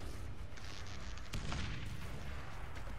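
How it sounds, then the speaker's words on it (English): Video game explosion on Jah Island, a loud continuous roaring blast with crackling debris and a sharp burst partway through, dense and close, no talk. "Runs into the explosion."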